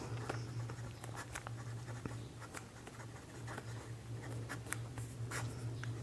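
A pen scratches across paper in short, quick strokes while working through a school math problem, soft and close against a low steady hum, with no talking.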